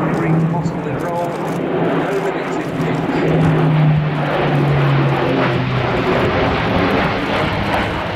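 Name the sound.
Airbus A400M aircraft flying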